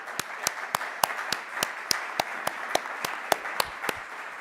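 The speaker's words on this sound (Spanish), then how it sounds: "recibámosle con un aplauso" Conference audience applauding to welcome speakers, about a dozen sharp, evenly spaced claps standing out over a softer continuous patter, moderately distant.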